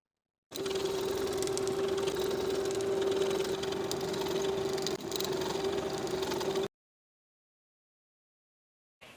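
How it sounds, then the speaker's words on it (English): A sewing machine runs steadily for about six seconds at an even, humming speed while sewing a wide zigzag stitch over a seam in power mesh swimsuit fabric, close and clear, then stops abruptly into silence. "Sew with that same wide zigzag stitch, centering the zigzag over the seam, using stabilizer if needed."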